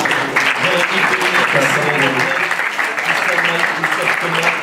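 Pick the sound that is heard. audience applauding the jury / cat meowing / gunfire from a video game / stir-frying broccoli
audience applauding the jury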